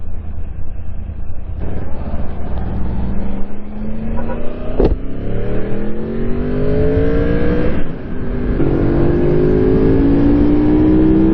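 A 1942 Dodge car engine revs up repeatedly, its pitch climbing in long sweeps, loud and close, with steady road noise underneath.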